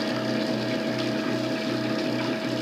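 A PicoBrew Zymatic home brewing machine's pump runs steadily, filling the grain compartment with water: a constant mechanical hum with watery rushing, close and continuous, no talk.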